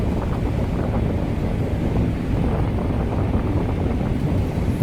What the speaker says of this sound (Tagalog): Pero medyo mahangin konti.